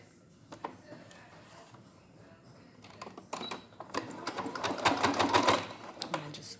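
A domestic sewing machine tacks elastic onto a fabric face mask, its stitching building from faint intermittent bursts into a louder, rapid whirring run near the end, with a voice speaking alongside.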